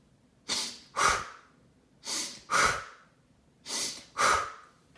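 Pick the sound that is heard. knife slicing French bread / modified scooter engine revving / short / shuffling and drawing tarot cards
short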